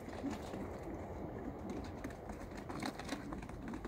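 Soft cooing from Kulbacki-breed pigeons repeats steadily in the background, low and murmuring, with a faint rumble of distant traffic underneath.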